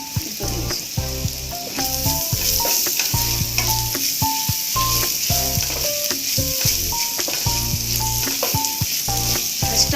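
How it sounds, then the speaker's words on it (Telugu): Cumin and garlic paste fries in a pan with a steady, loud sizzle, and rhythmic clinks and scrapes of a utensil run over it throughout, with no talk. "ఇది జీలకర్ర వెల్లుల్లి కచ్చా పక్క దంచుకున్న పేస్ట్ ఇప్పుడు వేసి"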